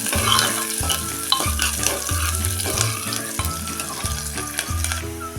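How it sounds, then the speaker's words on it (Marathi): Finely chopped large onion sautéing in a pan for a home-style mixed curry, with steady sizzling and repeated stirring scrapes in a regular rhythm, close and fairly loud with no voices. "मोठ्या साईजचा कांदा मी बारीक करून घेतलेला तो टाकून घेते कांदा चांगला मोकळेपर्यंत आपण परतून घेऊया"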